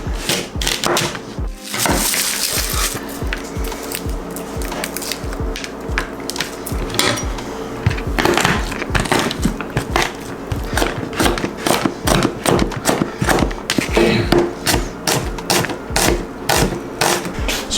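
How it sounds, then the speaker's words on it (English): A knife chops celery on a cutting board while preparing elk stew: quick, close, steady rhythmic cuts that continue throughout with no talking. "Cutting celery, no big deal."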